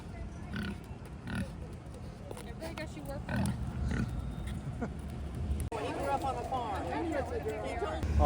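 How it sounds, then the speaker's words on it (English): Pigs walked around at the Kentucky State Fair, grunting and oinking now and then amid crowd noise and shuffling, with people talking over it. "They're just walking pigs around."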